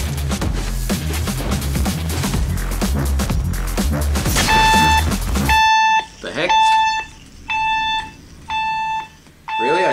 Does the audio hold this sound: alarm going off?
yes